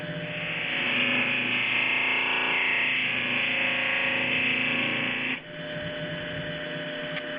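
Buffing wheel polishing a cast Honda motorcycle part under firm pressure, a steady close whining hum with a slight dip as the load changes partway through.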